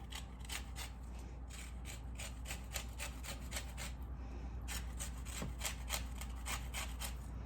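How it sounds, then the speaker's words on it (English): Half a lemon being rubbed across a grater for zest in a home kitchen, a quiet, steady series of rhythmic rasping strokes repeating close by with one brief pause. "I'm just going to grate it just to get a little bit of the zest from the lemon"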